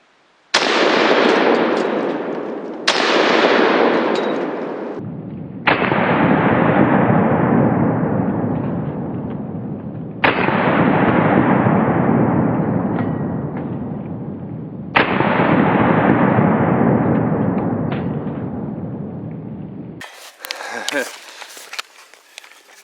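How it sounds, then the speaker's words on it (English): .45 caliber pistol rounds striking a concrete cinder block, a series of loud, close reports, each with a long decaying ring, spaced a few seconds apart, followed by a brief scraping rattle. "So multiple 45s can and will finish off a cinder block"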